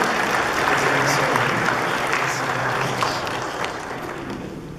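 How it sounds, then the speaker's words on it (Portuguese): Applause from the congregation at a Sunday Catholic Mass, a dense burst of clapping that starts strong and slowly fades, with faint murmuring voices underneath. "Dá uma salva de palmas para essa família que recebe"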